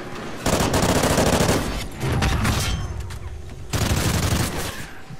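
Loud, dense bursts of automatic gunfire from a Call of Duty: Ghosts match, sustained volleys with brief lulls and a renewed burst near the end, no talk over them.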